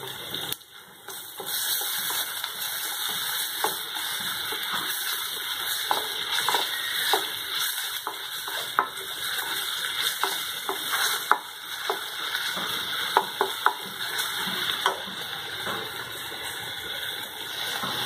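Steady, close sizzling as ginger-garlic paste fries with onions in a pan for chilli bread, with scraping stir strokes and light clicks throughout. No one speaks.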